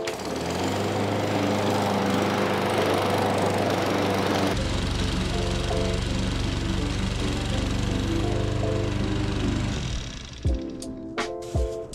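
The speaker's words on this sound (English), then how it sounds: "we're gonna go out and mow the lawn in a minute" A lawn mower engine drones steadily while a lawn is mowed, loud and close with a constant hum that shifts in tone partway through, then cuts off, followed by a few sharp knocks.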